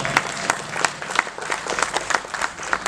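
A crowd at a live musical night show applauds steadily at moderate distance, a dense wash of many hands clapping without pause.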